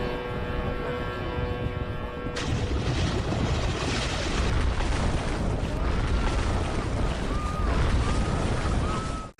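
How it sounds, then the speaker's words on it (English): Ferry with engine trouble near Gran Canaria striking a port wall: a sudden loud, rumbling broadband crash that starts abruptly and roars on heavily to the end, with no talk. "And the ferry crashes into the port wall."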